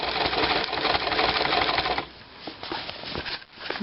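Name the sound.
sewing machine stitching cushion piping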